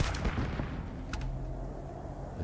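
A weapon fires in Starfield with a sharp, punchy crack, followed moments later by a second distinct report, each ringing briefly over a low ambient rumble.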